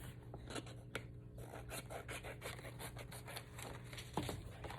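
Scissors trimming excess paper off a hand silhouette craft, a faint, quiet series of snips and rustling paper at an uneven pace, with no talking.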